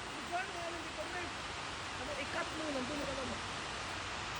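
Water rushes in a steady broadband roar at Cataract Dam in Australia, continuous and fairly distant, with people talking faintly beneath it.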